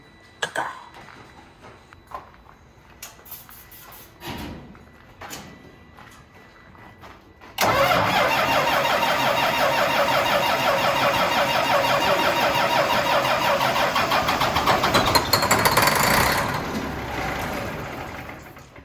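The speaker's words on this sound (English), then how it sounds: "Hold clutch in before you start." An old cabover truck engine cranks over after some faint clattering, then catches and settles into a steady, loud idle that runs for several seconds before quieting near the end.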